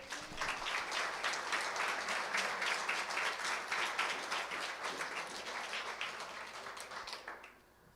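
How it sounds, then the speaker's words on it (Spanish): A church congregation applauds with dense, sustained clapping that fills the room, holding steady for several seconds before tapering off at the end. "Dele un aplauso al Señor"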